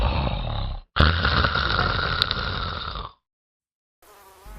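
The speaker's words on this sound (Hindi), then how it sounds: "अरे यहाँ पापा की खर्राटे सुनो" In an animated scene, a loud droning buzz like mosquitoes and a rough snore play in two long bursts, then cut to silence before a faint, wavering tail.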